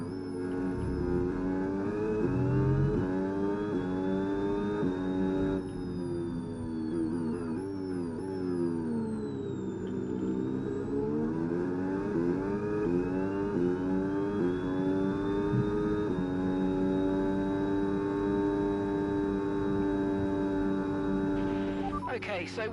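An F1 race car engine in the F1 26 video game drones continuously with rising and falling pitch through gear changes, a steady synthetic whine heard up close without pause.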